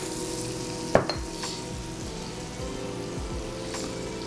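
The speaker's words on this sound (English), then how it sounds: "Onions are done in the pan." Onions frying in a pan, a continuous close sizzle with occasional clinks of a utensil stirring against the pan, no talk.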